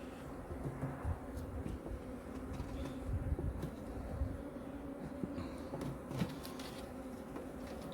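Bees buzz around a new beehive full of young bees about to hatch at an outdoor country house, a dense low drone with individual insects passing close now and then.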